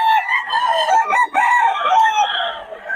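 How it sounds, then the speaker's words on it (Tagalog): A rooster at a poultry farm in Bocaue crows close and loud, one long drawn-out call with a brief break in the middle, heard alone. "Ang manok ni Boss Russell"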